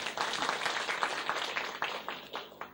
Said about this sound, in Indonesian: Tepuk tangan buat Anda semua.